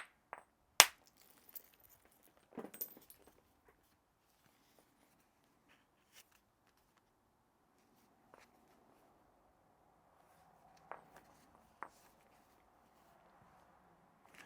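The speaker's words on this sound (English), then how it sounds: "I'm going to stick with the hard hammer for now." Flint knapped with a hard hammer stone while shaping an ovate, pointed handaxe: a few sharp, isolated clicking strikes near the start and again around eleven to twelve seconds, separated by long quiet stretches of faint handling.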